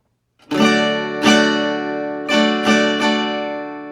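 Acoustic guitar strums ring out in a loose down, down, up pattern, five bright chord strokes with sustained ringing between them, close and alone.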